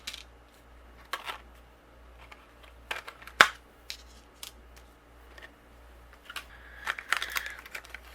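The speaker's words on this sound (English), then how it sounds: "we're going to die cut out all 3 of our images here." Stamped card images are die cut, heard as a series of sharp clicks and crisp snaps, close and fairly quiet, spaced irregularly over a low background hum.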